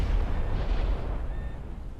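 Heavy naval guns fire during a battle between British cruisers and battleships in a naval video game: a deep, rolling low rumble, loud at first, that slowly fades away.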